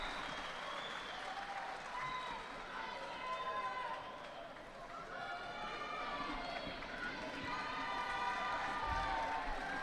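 A crowd cheers and applauds steadily at a judo Grand Prix in Tunis as a bronze medal is won, a dense wash of clapping and shouting that swells slightly toward the end, with a commentator's voice running over it.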